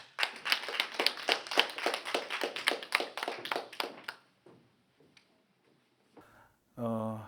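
Listeners at a lecture on Silhak and Joseon-era prose writers clap to welcome a professor. The claps are sharp and rhythmic for about four seconds, then stop abruptly, followed by silence, a few faint sounds and a voice.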